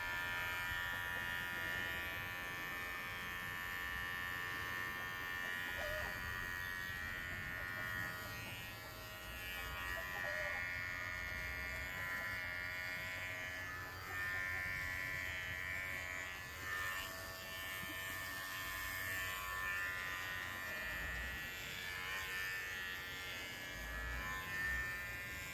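A Gimars pet clipper runs on its turbo setting, giving a steady, unbroken electric buzz with a high whine that holds at an even level for about twenty-five seconds, with no talking.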